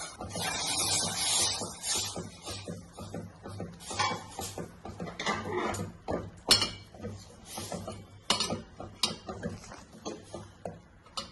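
Flour being stirred into just-boiled water in a pot, rapid irregular clinks and scrapes of a utensil against the pot, close and fairly loud, continuing throughout.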